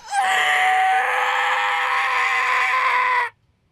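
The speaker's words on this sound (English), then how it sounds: "I screamed." A woman's scream from the visual novel game Chaos;Child, one loud sustained shriek lasting about three seconds before cutting off abruptly into silence.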